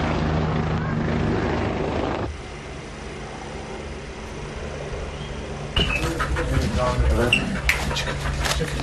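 A police helicopter circles low over a drug raid by a large force in Zeytinköy, Antalya, its rotor drone loud and steady throughout, with a brief drop in level partway and a swell again near the end.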